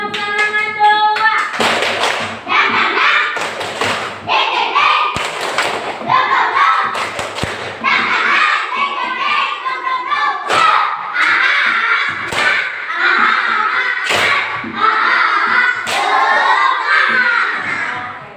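Elementary school pupils in a classroom perform a rhythmic spirit clap: loud, patterned bursts of hand claps and thumps in sequence, with children's voices calling along between the beats.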